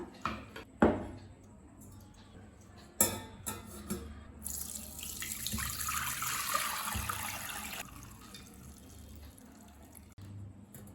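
Dissolved jaggery water for panakam is poured through a strainer, a soft continuous trickling and splashing of liquid after a few light knocks, close and fairly quiet.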